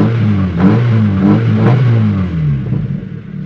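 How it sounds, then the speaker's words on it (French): A Mazda MX3 with about 23,000 km is blipped through its exhaust silencer. The engine gives a loud, close, throaty rev that swells and then settles over a few seconds. "Et là dès qu'on met un coup de gaz,"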